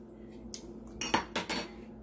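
A spoon clinks and scrapes against a pot of creamy cornstarch pudding on the stove, with a few sharp metallic taps clustered near the end over a quiet kitchen background.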